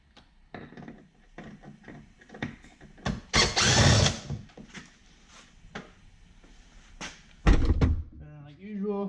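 A power drill fitted with a Phillips head bit backs screws out of the rear door panel of a 2016 Infiniti QX50, giving short whirring bursts with clicks and thumps between them, close up and moderately loud.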